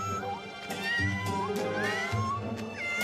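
A cartoon cat meows repeatedly in an animated series, its short, drawn-out calls sounding over a busy backdrop of music and sound effects.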